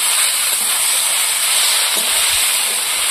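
Kuchi bhaja fries in a pan of hot oil, a loud, steady, dense sizzle that holds constant throughout with no pauses and no voices.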